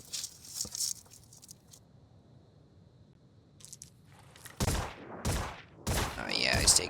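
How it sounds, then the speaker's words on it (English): Pistol shots from an enemy in the tactical video game Phoenix Point: several sharp, loud cracks in the second half, spaced about half a second apart, after a quieter stretch of soft game ambience. "he's taking some pistol shots at me"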